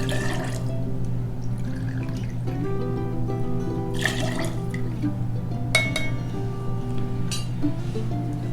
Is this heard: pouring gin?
yes